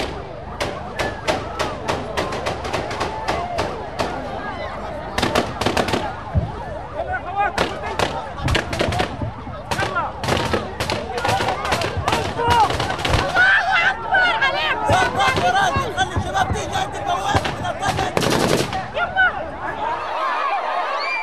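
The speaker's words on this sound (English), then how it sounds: "out of nowhere, gunfire from within the Palestinian crowd" Gunfire breaks out within a Palestinian crowd clashing with Egyptian police at the Rafah border, sharp repeated cracks scattered through a loud, constant roar of shouting and crowd noise.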